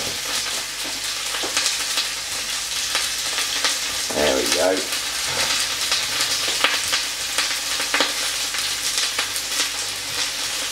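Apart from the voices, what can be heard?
leeks frying in a pan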